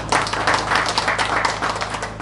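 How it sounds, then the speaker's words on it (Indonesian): An audience at a village cultural discussion gathering breaks into sustained applause, dense overlapping clapping, loud and close, with no pauses. "tepuk tangan untuk kita semua"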